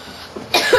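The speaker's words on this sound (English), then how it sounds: "That's the real cough right there." A single sharp, loud cough bursts out near the end after a quieter stretch of background sound, with a short second hack trailing it.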